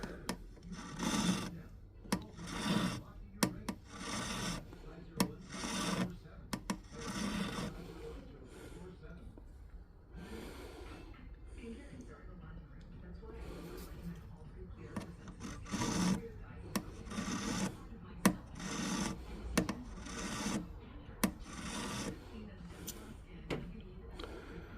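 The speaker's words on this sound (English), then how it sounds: "let's do a little more filing on this side." Rhythmic rasping strokes of a file or rasp work along a surface nearby in repeated back-and-forth passes, a short pause midway, moderately loud.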